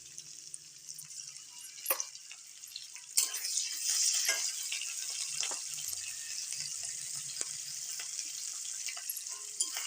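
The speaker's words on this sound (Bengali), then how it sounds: "এখানে আমি আদা রসুনের পেস্টটা দিয়ে ভালো করে লাল লাল করে একটু ভেজে নিয়েছি" Ginger-garlic paste fries with onion and dried red chili in a pan, a soft sizzle that swells after a few seconds and carries on with faint scraping and occasional clicks.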